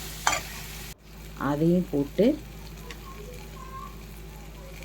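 Onions and tomatoes fry in a kadai for pav bhaji, a low steady sizzle running throughout beneath a short burst of nearby speech and a single clack near the start.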